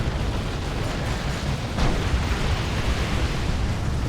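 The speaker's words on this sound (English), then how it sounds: "Decent grenade." A grenade explodes in a 3v3 Warhammer 40k: Dawn of War 2 battle, stunning Terminators. The blast is a loud, dense rumble that holds steady for several seconds with no talk over it.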